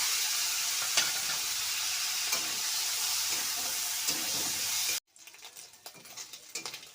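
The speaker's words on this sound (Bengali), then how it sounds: "তেলটা গরম হয়ে গেছে এবার আমি চিংড়ি মাছগুলো ভেজে নিচ্ছি" Prawns sizzle loudly in hot oil for several seconds, then the sound cuts abruptly to quieter sputtering and stirring.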